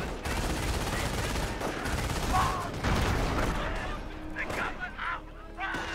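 Dense machine gun bursts and scattered gunfire rattle through a Company of Heroes match in a World War II real-time strategy game, loud and sustained before thinning out, with shouted voice lines and commentators speaking toward the end.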